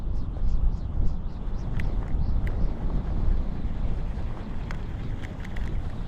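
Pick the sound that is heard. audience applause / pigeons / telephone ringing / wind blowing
wind blowing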